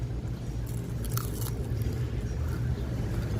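Close-up crunching as crisp dried fish is bitten and chewed, with a few sharp crackles over faint windy background noise.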